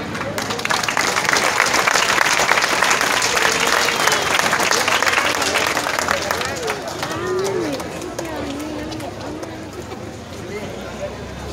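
Strong applause at an evening sociocultural event in San Mateo Yoloxochitlán, loud dense clapping that thins over several seconds as a voice begins speaking over the fading claps.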